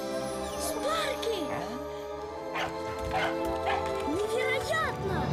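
A revived puppy barks and yips in short bursts amid a busy, dubbed trailer soundtrack with music and voices running underneath.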